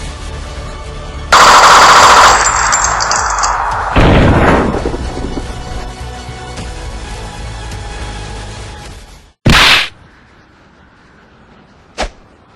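Gunfire from a gun in an animated adventure episode: a loud burst of rapid automatic shots, then a sustained roaring blast that trails off. A sharp crack follows, then a faint final snap, with no talking.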